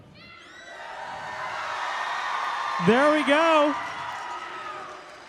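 Teams cheer at an opening ceremony in the Hanner Fieldhouse at Georgia Southern University in Statesboro, a sustained crowd roar filling the hall while a voice speaks briefly over it.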